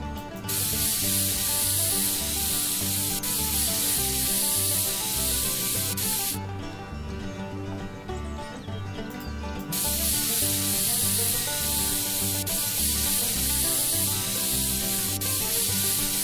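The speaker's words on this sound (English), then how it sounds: "Let's go and spray paint it to mask ugliness" Spray paint hisses onto a wooden chair in Woodwork Simulator, a loud continuous aerosol spray in long bursts with a short pause midway, over a looping background music bed.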